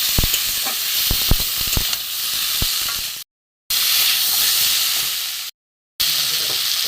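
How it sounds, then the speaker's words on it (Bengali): Boiled cauliflower and potato pieces are sautéed in a hot pan for a cauliflower suji dish, giving a steady steamy hiss with scraping stir strokes. The sound cuts out twice and then resumes. "এখানে আমার ফুলকপি আর আলু সেদ্ধ করা আছে কষিয়ে নেব একটু ভালো করে"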